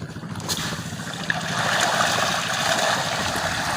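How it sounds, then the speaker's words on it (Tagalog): Rough sea and wind make a broad, continuous wash of water noise that swells and holds steady throughout, fairly loud and close, with no voices. "Tapos parang malaki na yung alon,"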